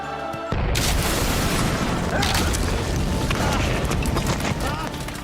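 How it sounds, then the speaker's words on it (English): A loud explosion in the Doctor Who episode The Unquiet Dead, a sudden roaring boom that bursts in after a brief pause and rumbles on steadily, loud and close. "The Doctor dives from this explosion as Gwyneth saves the world."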